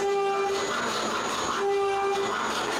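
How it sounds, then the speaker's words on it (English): A CNC machine carves a wooden Christmas ornament, a continuous whining, rushing machine noise with steady tones that drop out and return, filling the background without any talk. "that annoying noise in the background, well, it's my CNC carving another type of ornament"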